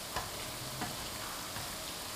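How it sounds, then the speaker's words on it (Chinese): Sweet glutinous rice sticks deep-fry in oil over medium heat, a soft, even bubbling sizzle held close throughout with a few faint ticks. "炸的时候它会蓬松"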